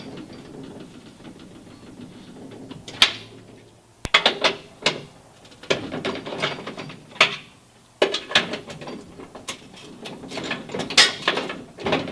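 Hand ratchet loosening half-inch bolts on the door of an International Scout II, heard as bursts of clicking and metallic clatter in a workshop, close and fairly loud with short pauses between runs.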